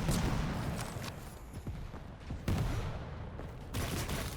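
Tri-bolt weapon fire in a Quake Champions 4v4 match comes as a rapid series of sharp bursts and thuds amid hectic game action, moderately loud and repeating in clusters.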